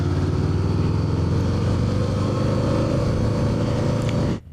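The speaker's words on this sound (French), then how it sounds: "c'est une moto très agile pour rouler ici en ville" A Kawasaki Eliminator 500 motorcycle engine hums steadily at close range in city traffic, a continuous low drone with slight throttle variations, cutting off abruptly near the end.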